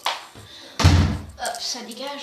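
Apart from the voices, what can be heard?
bedroom door closing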